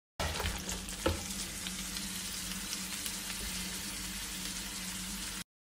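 Mixed vegetables sizzle loudly in butter and oil for Chinese-style Indomie noodles, a steady close hiss of stir-frying with a sharp clatter early on and no talking.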